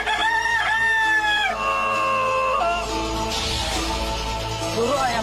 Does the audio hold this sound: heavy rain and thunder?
no